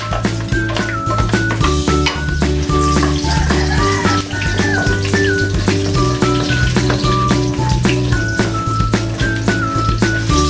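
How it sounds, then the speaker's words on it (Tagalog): Garlic sizzling in heated oil in a pan, a continuous loud crackle with dense popping, heard over steady background music. "Nagpainit na ako ng oil, ilagay ko na yung bawang."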